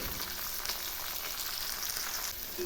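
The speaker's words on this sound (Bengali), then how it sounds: "এই আলু বেগুনগুলো এখন একসঙ্গে খুব ভালো করে ভেজে নেব" Potato and diced eggplant chunks fry in a pan with salt and turmeric, giving a steady, close hiss and crackle of sizzling oil that runs evenly throughout with no talk.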